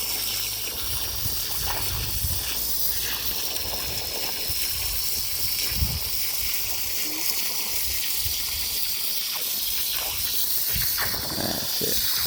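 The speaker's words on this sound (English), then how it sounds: "So you use the hose basically to make the path" Water from a garden hose rushes and gushes steadily over gravel and sand, washing it downhill in a continuous hissing stream with occasional splashes and knocks.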